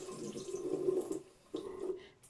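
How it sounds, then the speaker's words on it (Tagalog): Cold tap water runs to rinse skin during an aloe vera and baking soda underarm treatment, a steady close splashing flow with a short break midway and no one speaking. "Banlawan natin"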